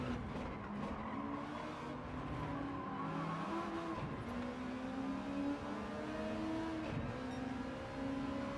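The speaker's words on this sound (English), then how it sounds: "Rasp of the exhaust there," Race car exhaust rasps steadily in Gran Turismo 7 during a lap on a damp track, the engine note rising and falling through gear changes with some tyre squeal, loud and continuous with no talk.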